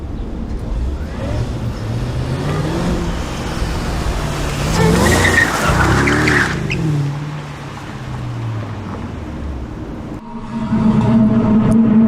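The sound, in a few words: car tires squealing while hitting hard turns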